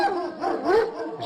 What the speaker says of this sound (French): Ils sont méchants les chiens?